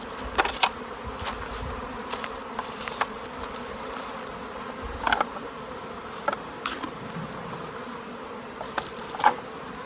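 A steady insect buzz from many honeybees around a hive hums throughout, with occasional louder passes as individual bees fly close by.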